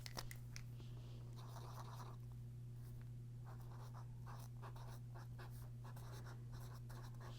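A Posca paint marker writes in small strokes on paper, its faint scratchy rubbing coming in short intermittent bursts over a steady low background hum.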